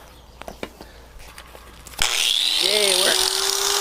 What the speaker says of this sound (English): we gotta carefully cut this off with our ancient grinder